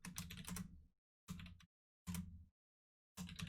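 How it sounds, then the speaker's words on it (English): A loud computer keyboard clatters in four short bursts of rapid keystrokes, each under a second long and separated by silent gaps, close and alone without talk. "listen to my loud keyboard"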